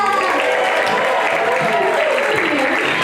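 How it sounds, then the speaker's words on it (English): A public show audience in Hawaii gives a child a round of applause, steady, loud and continuous throughout, with a voice faintly audible underneath. "A big round of applause for Clara"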